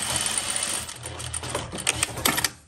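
A sewing machine stitches a sandwiched fabric-scrap piece with a 1 cm seam, a steady close motor whir that runs throughout and ends in a few quick bursts.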